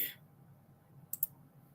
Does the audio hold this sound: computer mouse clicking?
yes